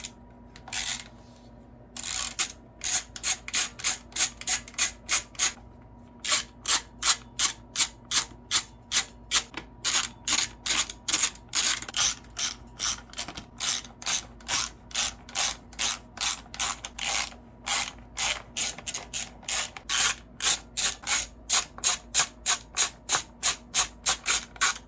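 A ratchet wrench clicks in long, rapid runs of sharp, close ratcheting as it works 10mm bolts off the carburetor of a Honda GCV160 engine on a 1959 Yuba tiller, with brief pauses between strokes.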